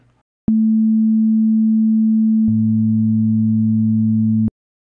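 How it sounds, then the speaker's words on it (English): A steady pure sine tone plays alone, then a second lower sine tone joins it and the two sound together until both cut off abruptly, generated in the ChucK programming language. "we heard the two sine waves mixed together"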